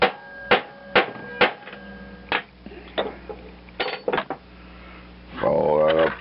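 Center punch being hammered into metal while repairing a Ford LGT 14D lawn mower: a series of sharp metallic taps, several spaced strikes then a quick cluster, close up, with a voice talking briefly near the end.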